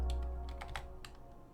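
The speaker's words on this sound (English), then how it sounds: "Typing with one hand, not good." Quiet typing on a computer keyboard with one hand during a Nova Drift game session: a handful of light, irregular key clicks, close and soft, over a faint low hum, with no talking.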